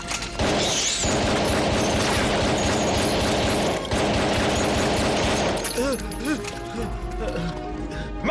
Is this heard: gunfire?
yes